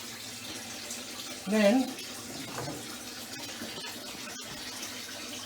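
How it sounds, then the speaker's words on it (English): Hands are washed under a running kitchen tap, a steady soft stream of water throughout, with a voice briefly speaking. "I have washed my hands."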